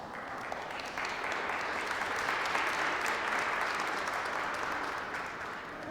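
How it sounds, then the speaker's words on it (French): A church congregation gives a steady round of applause at a Christmas Mass. The dense clapping holds at an even level for several seconds, and the room makes it sound slightly distant. "On peut l'applaudir."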